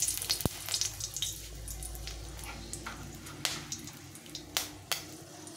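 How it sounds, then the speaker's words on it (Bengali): Dried red chillies spluttering in smoking-hot mustard oil in a kadai, a soft hiss broken by a few sharp, scattered crackles and pops, fairly quiet and close. "যাই হোক, এটা দুটো শুকনো লঙ্কা ফাটিয়ে দিলাম"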